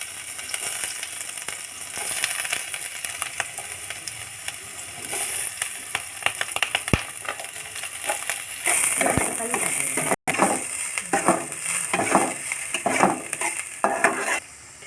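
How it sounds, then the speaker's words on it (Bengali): Chopped onion, chilli, ginger and garlic fry in hot mustard oil in a wok, giving a steady, close sizzle broken by repeated stirring scrapes and light clicks of a utensil against the pan. No one speaks. "আদা কুচি, রসুন কুচি ফোড়ন দেব।"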